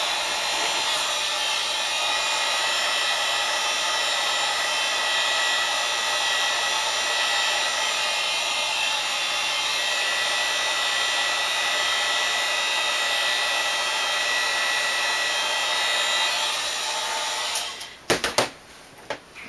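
A heat gun blows hot air onto EVA foam in a steady, even whirring rush that holds for a long stretch and then cuts off with a few clicks and knocks near the end.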